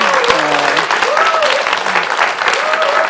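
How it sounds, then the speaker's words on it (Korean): Studio audience at a Bible lecture anniversary special clapping, a loud, close burst of many hands with sharp individual claps, while faint voices speak under it. "여러분들을 위해서 한번 박수를 쳐주시면 좋을 것 같아요."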